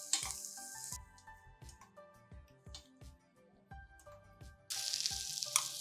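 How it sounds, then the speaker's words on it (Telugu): Pumpkin pieces fry in ghee for payasam, a soft sizzle under repeated spoon stirs and clinks against the pan, close, with a louder hiss at the start and near the end. "గుమ్మడి ముక్కలు కొంచెం వేగితే చాలండి, కాస్త నేతి వాసన వచ్చేదాకా."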